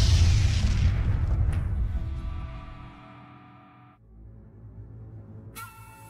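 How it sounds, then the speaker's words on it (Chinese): In an animated fantasy fight, a punch blasts a crater into the ground with a heavy, loud boom that rolls off over a few seconds into a low rumble, then a brief crackle. "一拳轰出，地面砰然炸出一处坑洞"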